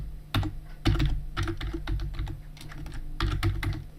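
Quick, close key presses on a computer keyboard as a new password is typed, coming in short irregular bursts with small pauses between groups of keystrokes.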